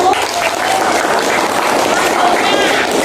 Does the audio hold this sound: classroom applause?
yes